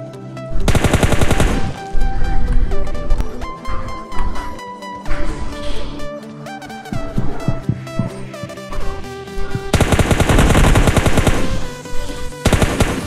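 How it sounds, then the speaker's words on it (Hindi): Gunfire in the mobile battle-royale game PUBG Mobile: loud bursts of rapid automatic shots at the start and again near the end, with scattered single shots and game effects between, and no talking. "इस वाले में गोली मारते हैं"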